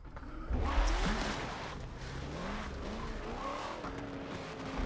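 An FD drift race car in Forza Motorsport 7 revs hard with screeching tire squeal, the engine note rising and falling continuously at close range with no talking.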